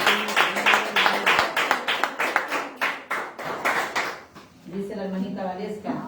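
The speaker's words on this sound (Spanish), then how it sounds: "Gracias por el aplauso que fue para mí" Congregation applauding inside a church during a Spanish-language evangelical service, a steady run of crisp claps that rises and falls in waves before giving way to a voice speaking over the fading applause.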